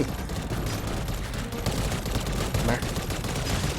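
Gunfire in the mobile shooter N.O.V.A. Legacy comes as a dense, continuous fusillade of shots at moderate level, with voices talking over the shooting.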